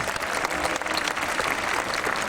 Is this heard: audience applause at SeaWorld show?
yes